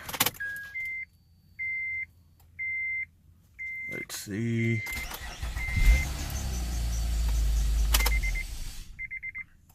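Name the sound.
car engine cranking and starting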